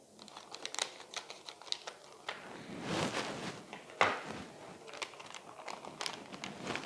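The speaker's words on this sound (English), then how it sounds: "Using some scissors, cut along the dotted line where indicated." Scissors snip through a foil pouch along its dotted line, a series of close, crisp cuts and crinkles with small pauses between them.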